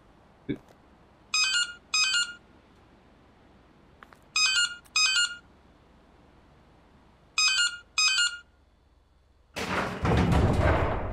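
A Nokia mobile phone rings inside a horror video game, three short double bursts of a bright melodic ringtone spaced a few seconds apart, followed by a loud rumbling noise near the end.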